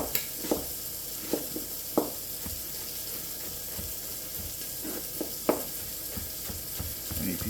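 Bacon sizzling in a pan for corn chowder, stirred a few times: a steady hiss of frying runs throughout, with scattered clinks and scrapes from the stirring utensil at irregular intervals.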